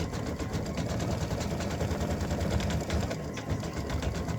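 An embroidery machine stitches a Valentine gnome mug rug in the hoop, running a steady, fast mechanical chatter close by and at even loudness throughout.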